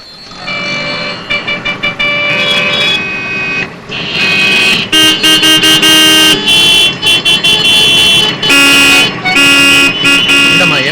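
Car horns honk repeatedly in a jammed street, loud and close, mixed with music-like tones and other street noise in short bursts and longer blasts.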